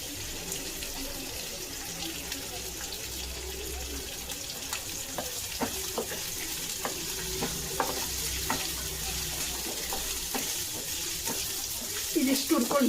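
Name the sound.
onion and ginger frying in oil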